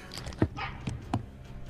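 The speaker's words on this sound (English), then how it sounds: "My dogs are fighting." Dogs in a home scuffle in the background, with a few short yips and barks in quick bursts, fairly distant and muffled behind a closed door.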